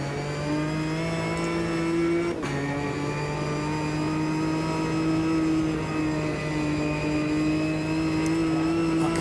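GT4 race car engine in the Automobilista 2 racing game, a steady sustained drone at constant revs with a brief dip as a gear shifts, loud and continuous with no talk.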